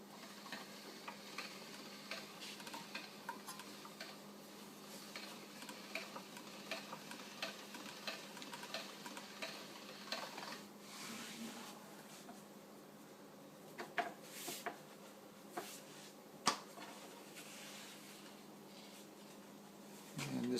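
A hand-cranked pasta machine presses ramen dough between its rollers with quiet, steady ticking and clicking. Soft rhythmic mechanical taps run throughout, with a few sharper knocks toward the end, faint and close.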